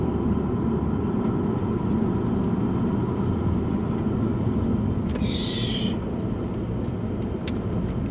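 Inside a 2008 Lexus GS460 on the move, a steady, loud low road and engine rumble fills the whole stretch, with a brief high squeal rising partway through. No one speaks.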